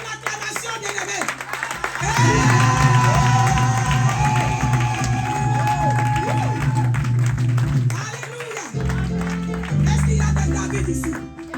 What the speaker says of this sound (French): Une offrande d'acclamation pour sa vie.